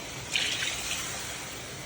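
Water pours briefly into a pot of aloo gosht, a short splashing gush that settles into a steady trickle, close and moderately loud with no talk.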